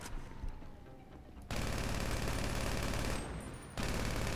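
Vehicle cannon firing from a Pfister Comet car at other cars in GTA V, a dense continuous barrage of rapid shots that swells loud and steady after a quieter start, briefly dipping before resuming.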